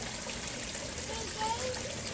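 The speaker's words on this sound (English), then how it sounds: "this is our newest little waterfall edition." A small garden pond waterfall keeps up a steady, close trickle of falling water that runs evenly through the whole moment.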